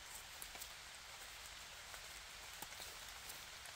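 Rain falls steadily in a German forest while mushrooms are gathered, a dense, even hiss of drops on leaves with a few sharper individual patters, fairly quiet and continuous with no talking.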